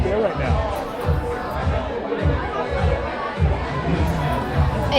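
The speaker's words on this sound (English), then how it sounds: "the crowd has really started to get excited" A large, excited crowd at an election campaign event in a Holiday Inn ballroom in Gaithersburg, Maryland, keeps up a loud, continuous roar of chatter and cheering.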